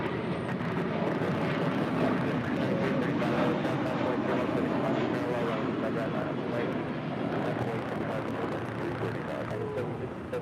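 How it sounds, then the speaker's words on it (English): A Volaris Airbus A321 departs for Guadalajara with a steady, broadband jet engine roar at moderate distance, holding constant without a clear rise or fall, overlaid with faint rumble and wind noise. "That is Velati's flight 915 departing to Guadalajara on an A321"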